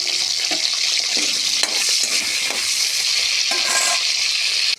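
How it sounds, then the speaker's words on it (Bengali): Potatoes fry lightly in hot oil in a wok, giving a bright, steady sizzle with a few soft stirring knocks, close up and alone with no voices. "এখন আলু হালকা করে ভাজিয়ে নেব।"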